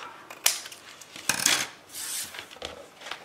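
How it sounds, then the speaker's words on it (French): A small piece of paper or card cut at an angle while binding a handmade album: quiet, close snips and scrapes with a couple of sharp clicks, brief and irregular. "je coupe en biseau"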